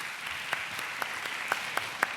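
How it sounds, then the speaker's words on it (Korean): Audience at a church service for new believers clapping to welcome two guests onto the stage, steady broadband applause with a few sharper claps standing out. "우리 큰 박수로 환영해 주시면 아마 긴장이 풀리실 것 같습니다."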